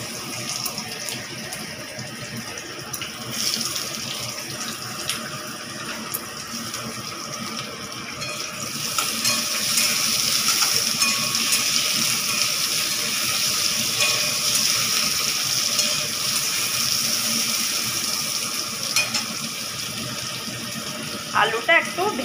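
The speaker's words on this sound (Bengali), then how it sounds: "তেলটা আমার হয়ে গিয়েছে, দিয়ে দিলাম কেটে রাখা আলু।" Cut potatoes hit hot oil in a wok while a bitter-gourd ghonto is being made, giving a soft, watery hiss that swells to a steadier, brighter sizzle about halfway through and continues to the end.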